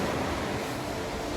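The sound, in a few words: surf on the bay of Mont Saint-Michel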